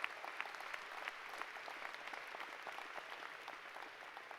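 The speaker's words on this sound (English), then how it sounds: "You can clap." An audience at the Ithaca High School 2019 commencement ceremony claps steadily, a dense and fairly distant patter of many hands that continues evenly throughout.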